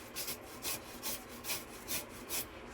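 Raw green mango, young with no seed yet, grated slowly in regular rasping strokes, about six even scrapes close by with no voices.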